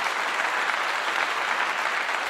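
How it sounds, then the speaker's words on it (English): Steady applause from an audience, a dense even patter of clapping that holds at the same level throughout with no voices over it. "let me give you applause, brother, right now."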